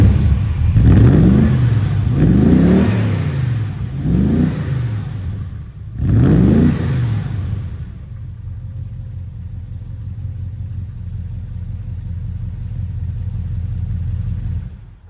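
A 1970s Triumph Stag sports car engine heard from behind is revved four times, each burst rising and falling, then settles into a low, steady burbling idle, close and loud with no talking.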